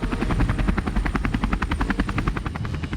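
An MH-60 Romeo Seahawk helicopter beats its rotor blades in a fast, steady chop, loud and close throughout with a constant whining drone behind it.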